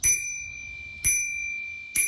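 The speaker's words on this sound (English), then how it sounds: "we flick the button, it makes a bell noise." A RoyalBaby kids bike bell rings three times, each a bright metallic ding that rings on after the strike, spaced about a second apart and heard up close with no talk.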